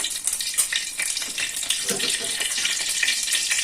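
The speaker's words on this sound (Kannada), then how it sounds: "ಇದಕ್ಕೆ ಸ್ವಲ್ಪ ಸಾಸಿವೆ ಹಾಕಿದ್ದೀನಿ ಸಾಸಿವೆ ಚೆನ್ನಾಗಿ ಸಿಡಿದ್ಮೇಲೆ" Mustard seeds crackle and spit in hot oil in a pan, a dense continuous hiss of sharp pops close by, with no talking.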